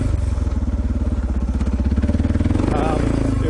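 A motorcycle engine drones steadily while riding single track on dirt, its low pulsing note rising briefly near the end, loud and close under wind rumble.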